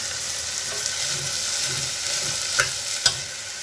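Basmati rice is stirred into hot oil with carrots and sprouts in a frying pan for pulao, a steady close sizzle with soft scraping from the stirring and a couple of sharper clicks near the end.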